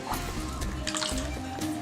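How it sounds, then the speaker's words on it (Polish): Aquarium filter sponge soaked and squeezed in aquarium water, close wet sloshing and dripping with trickling water, brief and continuous. "moczymy ją w tej samej wodzie"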